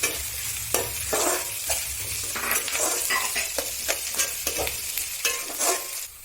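Green chilies and translucent onions sizzle in a hot pan for gobi Manchurian, with a steady fry hiss broken by repeated scraping stirs of a spoon, close and fairly loud, no talking.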